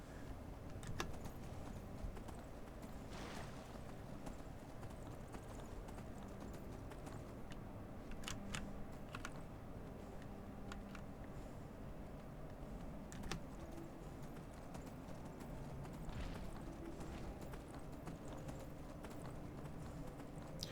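Horse hooves in Skyrim as the player rides, a continuous rapid clip-clop gait, fairly quiet and steady, with occasional keyboard clicks layered over it.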